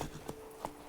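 Roach the horse's hooves in The Witcher 3 video game, two or three soft clip-clop hoof falls spaced about a third of a second apart over a low steady background.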